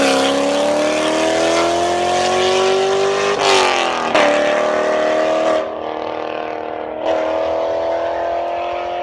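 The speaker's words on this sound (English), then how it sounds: "whenever you see a C7 Corvette and you hear the exhaust" Exhaust of a Chevrolet C7 Corvette, a loud, steady engine drone that rises in pitch, then breaks into several sharp shifts and revs as it climbs again, close by with no talking.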